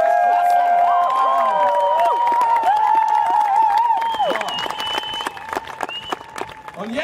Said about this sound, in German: erst einmal beglückwünschen und bejubeln lassen unseren stolzen Mitspieler aus dem fernen Leipzig.